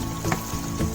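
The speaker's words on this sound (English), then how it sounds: "And saute it." Vegetables sautéing in a pan for Indian-style veg pasta, a steady soft sizzle close by with two brief louder stir bursts, no talking.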